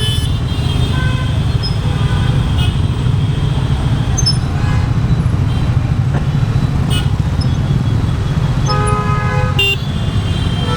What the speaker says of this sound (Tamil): டிராஃபிக் வந்து ஹெவியாக இருக்குது பெங்களூரில்.